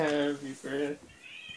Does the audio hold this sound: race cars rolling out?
no